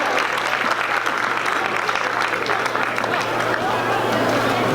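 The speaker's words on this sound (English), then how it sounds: "Let's give one more round of applause" An audience at a New Year celebration opening ceremony claps in a dense, steady wash of applause that fills the whole stretch at an even, fairly loud level, with a constant low hum beneath.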